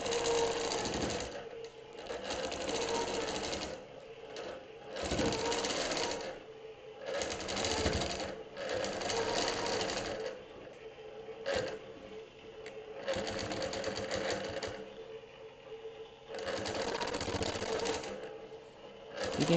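A longarm quilting machine stitching a holiday quilt, rapid steady needle chatter in long bursts separated by brief pauses as the machine stops and restarts.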